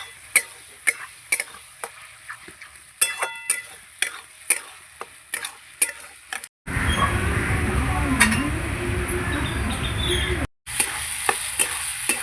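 Mutton liver and fat with whole garlic cloves are sautéed in a pan, first sharp rhythmic clinks and taps of a spatula against metal, then a loud steady sizzle.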